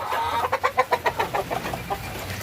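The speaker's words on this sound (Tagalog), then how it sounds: "Wow, rooster." A flock of chickens that includes Legbar, Rhode Island and mixed birds makes a short burst of rhythmic clucking, a string of about ten pulses close by, with no talking.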